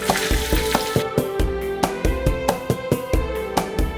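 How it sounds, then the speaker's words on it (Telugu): Onions and green chillies fry in hot oil with cinnamon and cloves for a village-style murrel fish curry. A loud, close sizzle is broken by regular sharp clicks and spatters, as if stirred in the pan. "ఆ 2 చెక్క 2 లవంగా పడి ఏ ఉల్లిపాయ పచ్చిమిరకాయలు వేసి"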